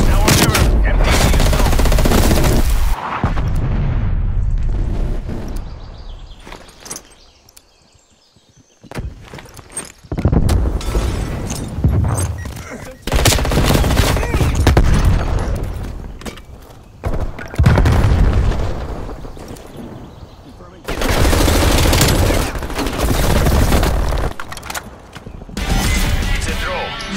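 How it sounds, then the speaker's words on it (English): Heavy booms of an artillery strike mixed with bursts of gunfire fill a loud battle in Call of Duty Black Ops Cold War, coming in repeated waves with quieter gaps between them, while voices speak at times. "Hostile artillery targeting active. Artillery inbound."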